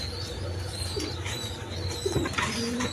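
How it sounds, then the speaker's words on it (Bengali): A pair of Lotan pigeons coo low and soft, up close, in a few murmuring phrases over a constant background hum, with a faint chirp or two mixed in. "এখানে এক প্যার লোটন কবুতর আছে দেখেন এখানে কোয়ালিটি সম্পন্ন কবুতর"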